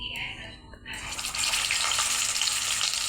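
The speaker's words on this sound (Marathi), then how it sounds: "तुम्ही बघू शकता कारले किती छान तळत आहे" Bitter gourd pieces dropped into hot oil, opening with brief faint clinks before a loud, steady, close crackling sizzle builds and holds to the end, with no talking.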